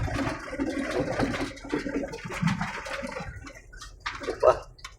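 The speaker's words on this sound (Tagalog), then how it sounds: "Pero ito na yung tubig sa disyerto." Floodwater after heavy rain rushes and gurgles through a desert, a steady close watery wash heard under people talking.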